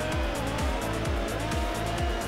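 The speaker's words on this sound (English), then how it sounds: "Interesting how the engine of this thing sound in the cave." A hydro jet racing engine from the game Riptide GP2 drones loudly and steadily through a cave, with rhythmic surging pulses and a reverberant, echoing character throughout.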